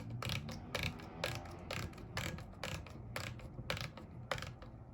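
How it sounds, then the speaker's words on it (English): The depth adjustment knob on an electric hand planer is turned, producing a quiet, regular series of small ratchet-like clicks about twice a second, close and faint, with no voices. "look at this front portion while I turn this knob"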